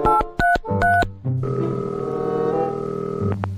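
Telephone keypad tones beep in a quick series of distinct presses before a call, followed by a steady dial or ringback tone that holds until near the end, loud and close with no talking.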